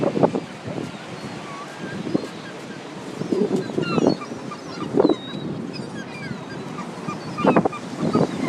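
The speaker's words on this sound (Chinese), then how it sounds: "满天的海鸥，现在冬天没有人来喂它。" Seagulls calling over the beach at Long Beach, New York, in winter, with several squawks and cries scattered across steady wind and microphone buffeting and distant surf, plus some faint voices.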